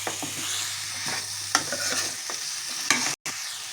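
Chicken with chili and coriander powder is stirred in a hot pan, giving a steady sizzle with repeated scraping strokes of the spoon, close and without speech.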